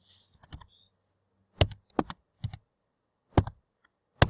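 Separate plastic keypad clicks tapped one at a time at an uneven pace, a short cluster early, then single presses spaced about half a second to a second apart, close and fairly quiet.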